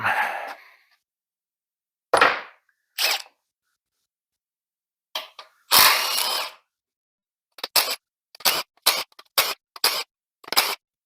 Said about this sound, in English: And then your 15 mil main cap bolts. Get these ripped apart.